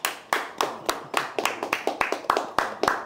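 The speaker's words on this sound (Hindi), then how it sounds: "इनके लिए तालियां।" Hand clapping for the cast of the film Ghich Pich, a dozen or so sharp, close claps in an uneven rhythm, loud against a quiet background, with no speech.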